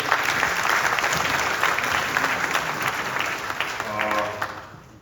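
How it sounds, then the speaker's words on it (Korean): Audience applause fills a lecture hall after a university president's special lecture on the faith and life of the Reformers, a steady dense clapping that holds loud and then thins out toward the end. "박수."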